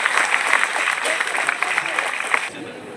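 An audience claps for NEET achievers at a college felicitation ceremony. The applause is steady and fairly loud, with a voice speaking over it, and it stops abruptly near the end.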